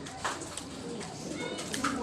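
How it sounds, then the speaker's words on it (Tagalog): Racing pigeons coo softly in a loft, a faint, low murmuring call rising briefly over steady background noise. "May ibon, oh."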